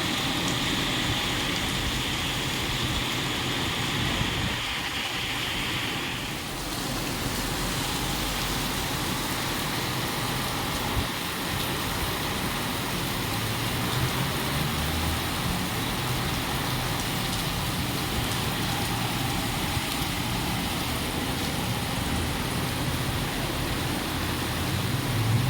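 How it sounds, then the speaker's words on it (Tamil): Heavy rain lashed by strong, swirling wind makes a steady, dense roar that fills the whole stretch without letting up. No one speaks. "ஃபுல்லாக அவ்வளோ காற்று மழை."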